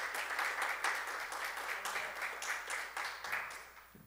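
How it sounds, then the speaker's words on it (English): A church congregation claps together during a Sunday worship service, a dense, steady wash of many hands filling the room for about four seconds before thinning out. "give a hand clap to the Lord"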